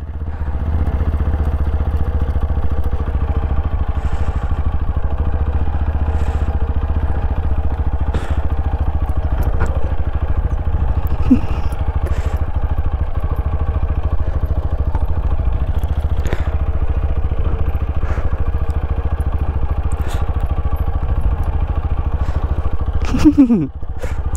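A motorcycle engine rumbles steadily for the whole stretch as the bike is brought down a hill on a mountain ride, with occasional clatter and knocks over the constant low drone.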